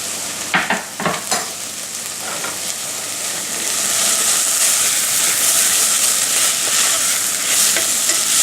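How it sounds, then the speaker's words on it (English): Ginger and onion cook in a pan for a kipfler potato curry, opening with a few sharp scrapes of stirring, then a loud, steady sizzle that swells and holds. "I'm just going to cook that with the onion before I put the garlic in there."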